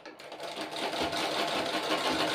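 Sewing machine stitching a petticoat, a continuous close, even whirring drone that runs without a pause.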